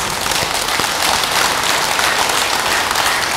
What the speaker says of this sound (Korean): 무조건 박수를 쳐야 돼.